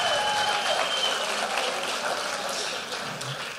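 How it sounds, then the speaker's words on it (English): Audience applause at a senior pageant honouring the ladies competing, a steady dense wash of clapping that holds from start to finish and tapers only slightly toward the end. "How about a big round of applause as the ladies"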